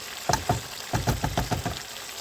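Finely cut chicken sizzles in a hot pan while a utensil knocks and scrapes against it several times in quick succession, close up.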